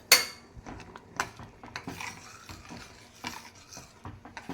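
A spoon stirs dal tadka in a pot after coriander leaves, amchur powder and kasuri methi go in, giving quiet scraping clinks and soft knocks against the metal, irregular and close, with no talking.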